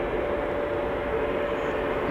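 A voice imitates a low-flying aircraft at an airshow broadcast from RAF Mildenhall, a steady droning rumble held evenly throughout, closely mimicking an engine pass.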